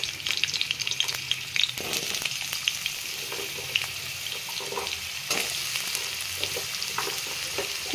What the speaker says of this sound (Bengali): কুমড়ো আর ডাঁটাটা আমি একসাথেই দেবো, দিয়ে একটু ভেজে নেব।